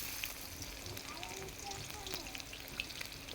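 Onions sizzle and fry in a hot pan while cooking at a picnic, giving a steady, soft crackling hiss with faint scraping, and voices talk quietly underneath.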